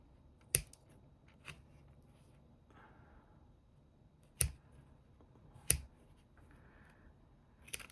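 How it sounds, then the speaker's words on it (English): Scissors snipping bits of thread while making an art journal page, a few sharp isolated snips spaced apart in a quiet room. "I'm going to try snipping off bits"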